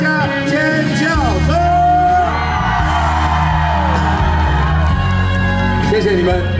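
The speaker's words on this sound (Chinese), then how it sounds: "掌声加尖叫" Concert crowd at an outdoor evening show in Chiayi, Taiwan, cheering, whooping and screaming loudly and continuously, with applause swelling under a singer's sustained vocal calls.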